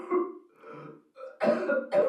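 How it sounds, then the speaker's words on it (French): A sound effect of people sick from coal coughing and clearing their throats: a few rough, close coughs and throat rasps in short separated bursts. "Donc on a mis des gens qui toussent."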